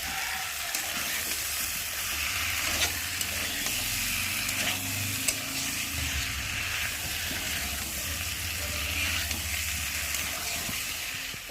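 Fried cauliflower and peas sautéing in masala in a pan, a continuous dense sizzle with a low rumbling undertone throughout, no talking.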